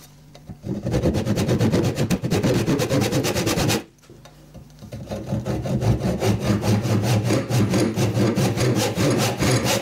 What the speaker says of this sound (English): We'll do all the wood turning first.